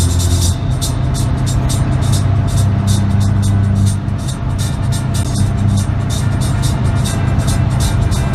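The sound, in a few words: car driving on a motorway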